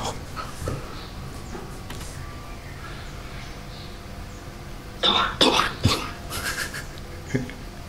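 A person coughs several times in a quick cluster near the middle, harsh and close, after a stretch of quiet room noise with faint breathing.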